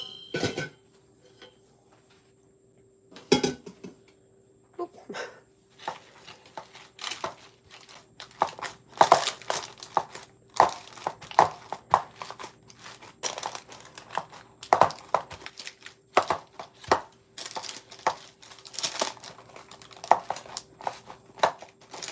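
Hands press a sticky Rice Krispies treat mixture flat in a pan, giving irregular soft crunching, crinkling and scraping noises, close and fairly quiet, with occasional sharper clinks.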